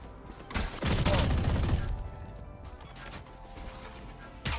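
Video game gunfire: a short, loud burst of rapid shots near the start, then fading to quieter mechanical clatter and a final sharp hit at the end.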